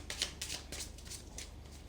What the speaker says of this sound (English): just to get some energy flowing, I will shuffle them again on camera.